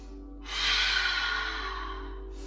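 A deep yoga breath: one long, steady airy exhale that starts after a short quiet moment and stays smooth and close for about two seconds over a low constant hum.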